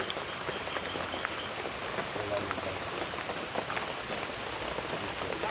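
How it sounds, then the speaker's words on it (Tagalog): Steady rain falls outdoors at night, a dense, even patter on surfaces that runs unbroken throughout, with low voices talking now and then beneath it. "Hirap dito mga labs kasi umuulan."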